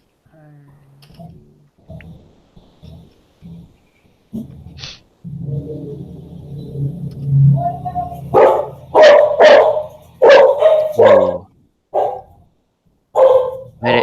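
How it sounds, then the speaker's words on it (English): An angry dog barks in a series of loud, sharp bursts, several in quick succession after a stretch of quieter sounds and a brief spoken word. "very angry dog."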